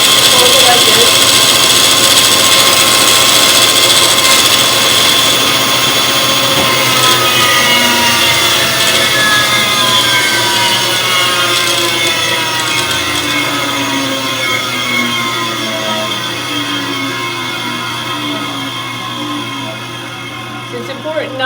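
A bandsaw cuts steadily through a piece of wood, a continuous loud machine whine with sawing texture running throughout, fading slightly toward the end.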